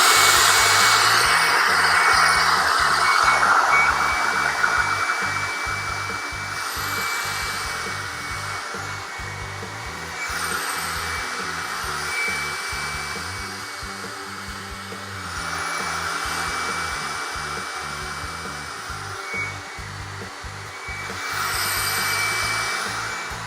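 A blow dryer roars steadily while drying hair with a round brush, its airflow swelling and dipping as the brush rolls through, with faint scraping and handling noises; no one talks.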